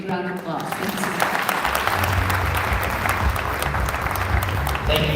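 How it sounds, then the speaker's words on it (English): Sustained audience applause fills a conference hall at an AI event in a Plano, Texas hotel, dense and steady throughout, with a low hum and some voices mixed beneath. "Give them a big round of applause."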